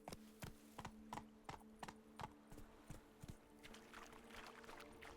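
Roach, the horse in The Witcher 3: Wild Hunt, trots with steady, even clip-clopping hoofbeats, quiet and fairly close, over a low ambient hum.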